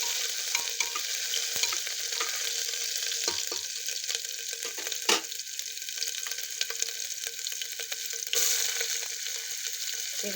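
A ginger, garlic and coconut paste frying in a pan over cumin seeds, giving a constant bright sizzle with scattered clicks and scrapes of stirring throughout, no voices.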